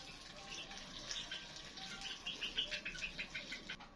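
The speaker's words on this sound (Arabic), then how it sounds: "هنزل بالماء السخنه بقى" Hot water poured into a pot of stuffed eggplant, a faint, close splashing and trickling patter that grows more rippling and uneven toward the end.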